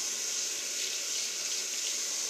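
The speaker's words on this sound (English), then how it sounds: "I'm just gonna run my water. I got it on warm" Warm water runs steadily from a tap into a sink, a continuous close hiss and splash holding even for the whole stretch with no talking over it.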